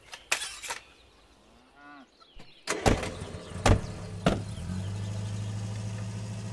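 Metallic clanks and thumps as a trailer is hitched to a car, followed by a car engine starting and idling steadily, with a faint animal call in the background and no talk.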